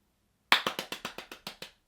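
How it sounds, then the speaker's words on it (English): A short round of applause: about nine sharp, evenly spaced hand claps, close and fairly quiet, with no other sound around them. "Yeah, round of applause for that."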